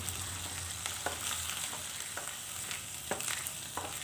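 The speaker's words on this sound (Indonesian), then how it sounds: "masukkan bumbu halusnya ditumis dulu bumbu halusnya ini" Onion and ground spice paste fry quietly in hot oil, a low steady sizzle with scattered light scrapes and taps from stirring, close and fairly faint.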